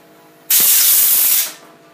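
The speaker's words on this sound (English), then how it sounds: "Air compressor." Compressed air blasts debris out of a saw in one loud, steady hiss that starts abruptly, holds for about a second, then tapers away, heard up close with no talking.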